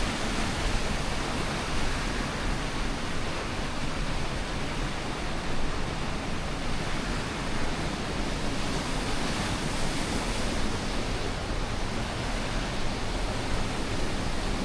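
Steady, full-bodied roar of the St Nectan's Glen waterfall in Cornwall, a broadband rush of falling water that holds at constant level from start to finish with no voices.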